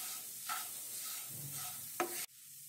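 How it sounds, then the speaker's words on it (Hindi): A spoon stirs a salted eggplant masala mixture in a pan, producing soft close scraping and a light sizzle with a couple of sharper knocks against the pan before it cuts off. "सभी चीजों को अच्छे से मिक्स कर लेते हैं"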